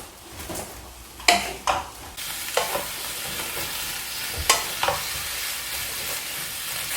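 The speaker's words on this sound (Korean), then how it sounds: "살짝 볶아주세요." Lotus root slices stir-fry in hot oil with a steady close sizzle, broken by several sharp clacks and scrapes of a utensil against the pan. No one speaks.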